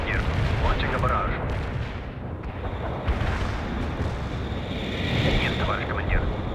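An artillery barrage in the war strategy game World in Conflict, a dense continuous rumble of booms and blasts with overlapping explosions, loud and sustained, with faint voices mixed in.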